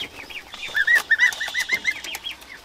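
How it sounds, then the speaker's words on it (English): Grey goslings peeping in a van, a quick run of high, thin chirps repeated in a rapid series for about two seconds, close and fairly loud with no talking. "We've got a couple of grey goslings, and they're going to be in with our gaggle."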